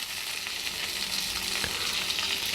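Tomatoes frying with curry leaves in a pan for a North Andhra-style mukkala pulusu, giving a steady broadband sizzle with faint stirring scrapes, fairly close and continuous, with no voices.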